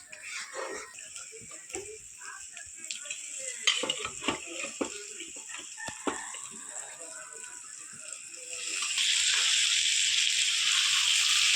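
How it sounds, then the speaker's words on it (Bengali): Meat curry is stir-fried in a pan, with a spatula scraping and clattering in irregular strokes over a soft sizzle that swells into a loud, steady hiss toward the end. "মাংস এখন কষানি হচ্ছে বন্ধুরা, দেখেন।"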